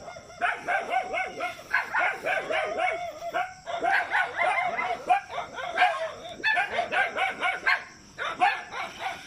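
Several dogs bark repeatedly in quick bursts, fairly close, with some yips and whining mixed in.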